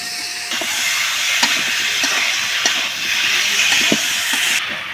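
Cubed potatoes sizzle in hot oil with spices for a thin mustard, tomato and potato curry: a steady, bright frying hiss with scattered sharp pops and crackles throughout, and no voices.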